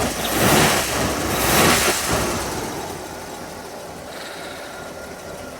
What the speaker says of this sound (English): This is one of the best sounding engines.